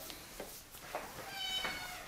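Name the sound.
cat meowing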